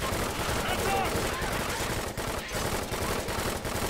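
Sustained gunfire in Left 4 Dead 2, a dense continuous barrage of loud shots filling the whole stretch, with players talking over the shooting.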